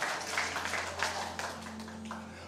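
Church congregation applauding during a sermon, a dense patter of many hands clapping at moderate distance over a steady low hum, continuing for a few seconds.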